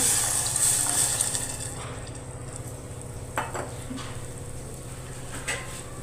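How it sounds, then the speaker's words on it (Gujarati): Water added to a pan of frying spices for vegetable Maggi: a loud hiss and rush at first that fades into a softer simmer, with a couple of brief utensil clinks, no talking. "હવે તેમાં પાણી એડ કરીએ"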